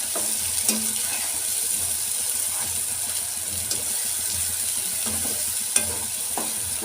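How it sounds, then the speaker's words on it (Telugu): Onions fry in a pan for peas kurma with a steady, close sizzle, while occasional scrapes and taps of a spoon stir them throughout. "కాసేపు దీన్ని వేగనిద్దాము."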